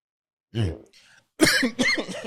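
A single close cough, followed by a short throat-clearing sound and another harsh cough burst.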